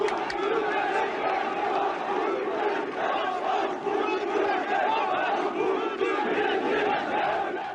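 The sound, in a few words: enthusiastic crowd of militants cheering at 1980 Türkeş rally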